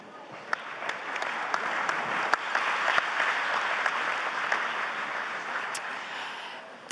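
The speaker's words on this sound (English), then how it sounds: "we can hear from the applause" Applause fills a conference plenary hall, a dense, even wash of many hands clapping for about seven seconds, with a few sharp individual claps standing out.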